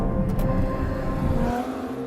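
A Ferrari Purosangue with a front-mid-mounted V12 engine revs hard with a deep, loud, continuous roar that rises and shifts in pitch as it accelerates, heard alone without talk.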